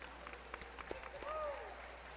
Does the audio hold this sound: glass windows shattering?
no